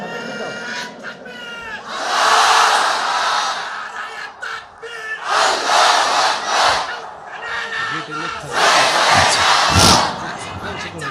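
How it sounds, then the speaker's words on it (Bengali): A large crowd at an Islamic sermon gathering shouts the takbir chant, Allahu Akbar, in three loud, roaring waves separated by short lulls. "সবাই একটা তাকবীর দেন, লিল্লাহি তাকবীর।"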